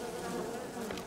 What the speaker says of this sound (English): Ah, bees! Bees!